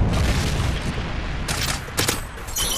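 A Predator missile strike in a video game: loud, rumbling booms with crackling bursts of gunfire and sharp impacts layered over a dense, continuous roar.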